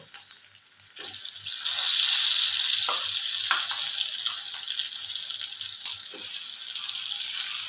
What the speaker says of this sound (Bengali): সবকটা আলু আমি এরকমভাবে ভেজে নেব